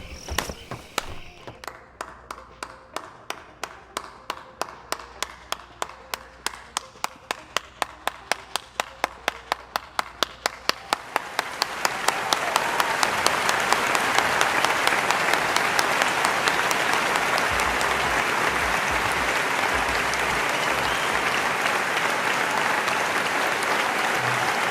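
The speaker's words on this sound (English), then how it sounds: "Round of applause" A few scattered claps start the applause and speed up, then it swells into a full, dense round of clapping that holds steady at a strong level to the end.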